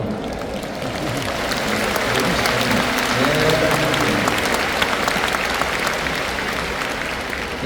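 An audience at the Baekseok denomination's 45th anniversary assembly in 2023 breaks into sustained, loud applause, a dense field of clapping that swells slightly midway and carries on for several seconds.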